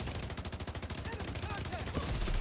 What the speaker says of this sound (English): and you can kill him just by shooting his hive